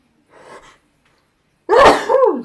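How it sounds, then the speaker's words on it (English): A single loud sneeze bursts out near the end, preceded by a faint breathy intake. "I'm gonna sneeze."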